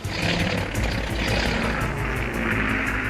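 Second World War Spitfire and Hurricane propeller fighter planes roaring past, a loud, continuous piston-engine drone with throbbing propeller pulses, close and steady throughout.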